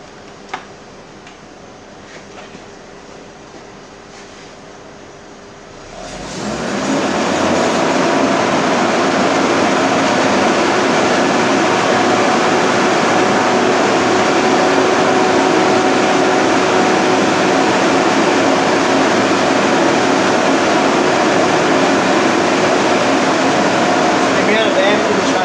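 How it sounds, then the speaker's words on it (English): An engine with a trickle-charging setup sits idling quietly, then rises sharply to a steady 3000 RPM, holding a loud, even drone until the end. "What I'm going to do is I'm going to rev it up to 3000 RPM."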